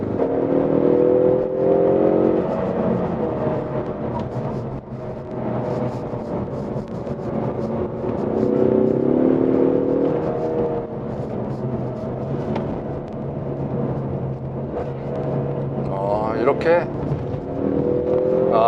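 A 2021 Ford Mustang 2.3 coupe driven hard along a winding mountain road in sport mode. Its engine rises and falls steadily through the corners with interior road rumble, and someone talks over it throughout.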